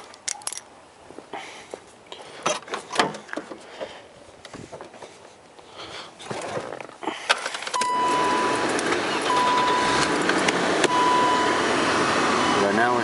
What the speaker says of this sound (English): we're going to start the engine and see what happens.